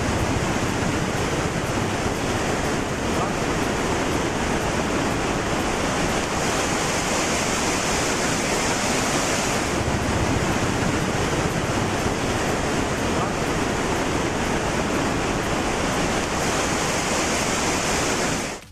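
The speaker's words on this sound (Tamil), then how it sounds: "கொள்ளிடம் ஆற்றில் 2 கரையையும் தொட்டபடி வெள்ளம் கரை புரண்டு ஓடுகிறது" Floodwater in the Kollidam river running bank to bank, a loud continuous roar of rushing water filling the whole stretch with no voices.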